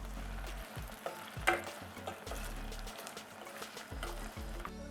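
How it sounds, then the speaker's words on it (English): Fried onions and capsicum stirred in a pan make a soft, steady sizzle, with repeated scraping strokes of a spoon in an even rhythm, close and quiet. "Added the capsicum and we have to mix it."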